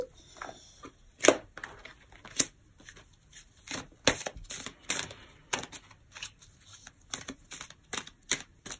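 A deck of tarot cards is cut and handled, with crisp papery slaps, flicks and riffling clicks coming in irregular bursts, close by and fairly quiet, with no talking.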